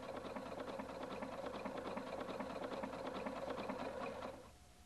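A Husqvarna Viking Designer 1 sewing machine runs steadily, sewing wide side-motion scallop stitches with a fast, even mechanical chatter, then stops abruptly near the end.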